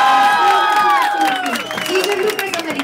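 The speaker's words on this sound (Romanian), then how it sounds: "aplauze încă o dată" A crowd cheers and claps, with raised voices whooping over a bed of scattered applause, loud and close.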